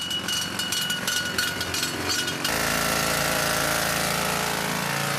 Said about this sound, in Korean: 차감기라 부르는 공구로 다이너마이트를 심을 구멍을 뚫는 작업자들.